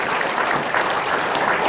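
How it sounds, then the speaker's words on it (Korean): A congregation at a Korean church rally claps together in a loud, dense, even wash of applause that holds steady from start to finish with no voices over it. "이 모든 수고하는 분들을 위해 다시 한번 박수 한번 합시다"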